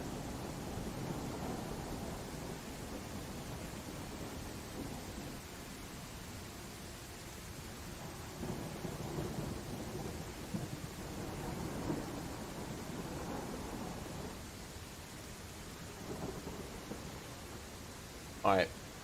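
In the Land of the Vikings video game, a thunderstorm fills the scene with a steady hiss of rain and low rolling rumbles of thunder that swell and fade throughout.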